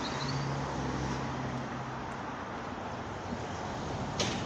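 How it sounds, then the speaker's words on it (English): Steady roar of traffic on a busy road passes near a canal feeder tunnel by a mill in the Manchester–Bolton–Bury area, a dense continuous wash of tyre and engine noise with a brief sharper sound near the end. "It's a very busy road."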